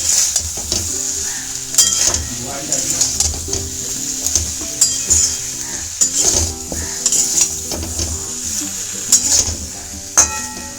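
Masala-coated vegetables are stirred in a hot pan with a steady sizzle, while a utensil scrapes and knocks against the pan in irregular strokes, loud and close.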